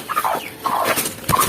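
A broody village hen sitting on eggs clucks in three short, raspy bursts, close and fairly loud with brief pauses between them.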